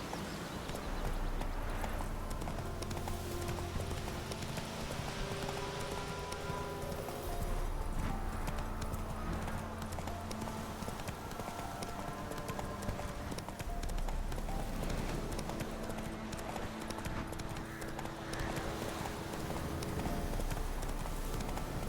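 Roach, the horse from The Witcher 3, gallops with steady, continuous clip-clop hoofbeats over layered game music and ambience for the whole stretch.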